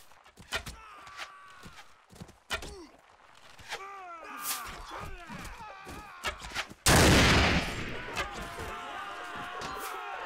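Gunshots ring out during a castle siege battle in Mount & Blade Warband with the Gekokujo mod, sharp scattered reports mixed with grunts, footsteps and combat noise, ending in a loud sustained burst of noise.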